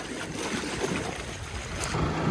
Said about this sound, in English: Starting to get some more splashing.